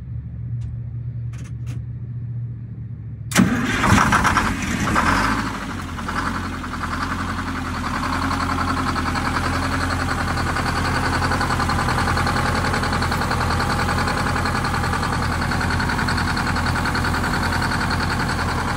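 A Scenicruiser bus diesel engine cranks and catches after a quiet start, then settles into a steady, loud, rumbling idle that continues alone for the rest of the clip.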